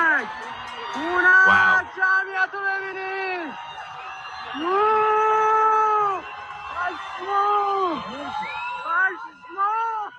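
A large crowd fills the streets of Tehran, with voices chanting and shouting in long rising and falling calls, some close and loud, others blending into a surging mass of people.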